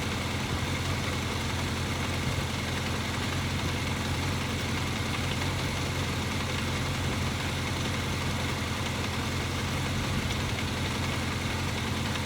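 A 1983 Kawasaki KZ750 Spectre motorcycle engine idling during carburetor tuning, a steady, even mechanical drone heard close with no speech.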